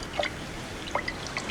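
Liquid is poured into a cup, heard as a few soft, separate drips and splashes spaced apart in a quiet room.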